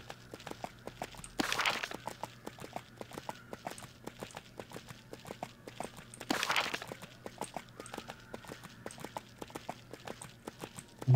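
Horse hooves clip-clopping at a steady walking rhythm in the EverQuest II online game, a soft close series of regular clops with two brief louder whooshing bursts.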